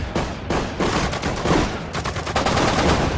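Dense battlefield gunfire from the World War II strategy game Sudden Strike 4, set at the Battle of Lille in 1940: rapid overlapping rifle and machine-gun bursts crackle loudly and continuously, with no voices.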